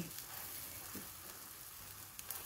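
Low carb French toast sizzles steadily in a pan, a soft continuous frying hiss with faint crackles and no voices over it.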